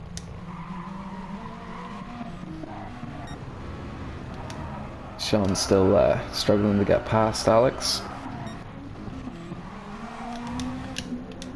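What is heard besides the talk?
racing cars speeding and tires squealing, sim racing video game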